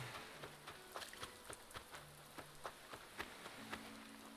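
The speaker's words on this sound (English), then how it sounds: "It is actually raining," Rain falling in the video game Animal Crossing, a soft steady patter with scattered distinct drop ticks over a quiet hiss, faint and even throughout with no voices.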